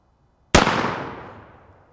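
A single loud shot from a Remington 1858 black powder percussion revolver, a sharp sudden crack that rings out and decays slowly over more than a second, with no talk.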